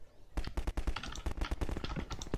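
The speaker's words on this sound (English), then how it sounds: "why is that gun sound looping?" Rapid gunfire loops in the video game Garry's Mod, a dense run of sharp repeated shots in quick irregular succession, loud and close throughout after a quiet start.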